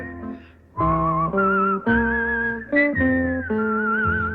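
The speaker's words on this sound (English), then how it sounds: "whistle a tune that'll carry me to Tombstone" A lone whistler carries the Tombstone Territory theme melody, clear and close, in distinct sustained notes that step between pitches with short gaps and a slight slide on one held note.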